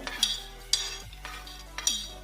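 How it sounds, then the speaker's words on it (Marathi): Dry fruits for ladoo being roasted in a pan, a few sharp scrapes and clinks of a spoon stirring against the metal over a soft, quiet background. "आता हे ड्रायफ्रुट्स आम्ही रोस्ट करीन"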